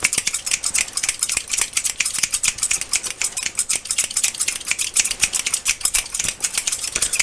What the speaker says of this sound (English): Do the double scissors.